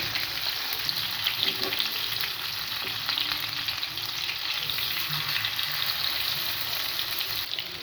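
Fish frying in mustard oil on a tawa makes a steady, even sizzle with crackling spatter that runs unbroken and close throughout.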